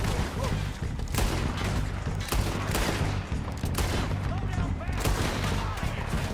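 Rapid gunfire in the Western video game Red Dead Redemption, loud close bursts of shots, some in quick succession and others spaced apart, over continuous noisy battle ambience while someone talks.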